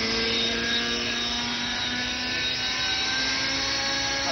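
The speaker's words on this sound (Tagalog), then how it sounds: "para simulan ang pagpapaangat ng ating RC helicopter" An RC helicopter lifting off sends out a steady, loud whine with sustained tonal rotor and motor hum, constant throughout with no voices.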